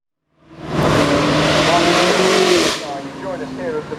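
A BMW M8 supercar roars past at the Goodwood Festival of Speed, loud and close, its engine swelling and then fading away, with people talking under it.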